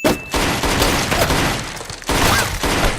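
Loud, continuous gunfire from the film The Purge: Anarchy, a dense barrage of rapid shots with brief drops in intensity between bursts.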